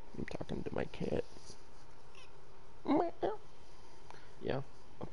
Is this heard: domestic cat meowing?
yes